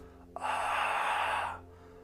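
One drawn-out Ujjayi-style breath like Darth Vader behind his mask, a steady throaty hiss as if fogging a mirror, close and fairly loud for over a second, made by a person imitating the sound.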